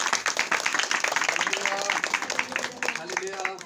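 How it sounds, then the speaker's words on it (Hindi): A church congregation at a Friday prayer service in Kaushambi claps loudly in a fast, steady rhythm for about four seconds, while a voice speaks over the applause. "जोरदार ताली बजाएं प्रभु के लिए"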